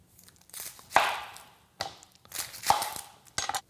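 A knife chops through a yellow onion on a cutting board, quartering it in a few distinct close thuds with crisp, crunchy slicing texture between them, no talk.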